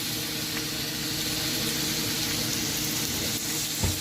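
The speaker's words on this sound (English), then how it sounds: "Just listen to that sizzle." Beef, onions and peppers sizzle steadily in a hot pan, a dense continuous crackle and hiss with occasional pops, close by and fairly loud.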